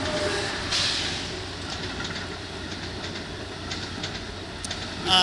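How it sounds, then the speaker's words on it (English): Trains running through the Gateway Tunnel, a steady enclosed rail rumble with faint clickety-clack and occasional high squeal over about five seconds, continuous and moderately loud with no talk. "trains are running right now"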